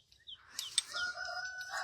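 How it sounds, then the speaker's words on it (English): A rooster crows outdoors among chickens and ducks in a spring garden, a short, fairly faint call rising over light background chirping from other birds. "I'm out here with my chickens and ducks, and the birds are chirping and the roosters are crowing"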